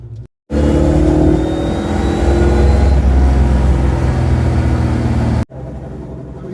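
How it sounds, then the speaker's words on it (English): A Foxbody Mustang idles with chambered mufflers, a low, steady droning exhaust rumble, close and continuous, with a brief dropout near the start and end. "Now the chambered mufflers bring with them their own drone that the straight through mufflers didn't have"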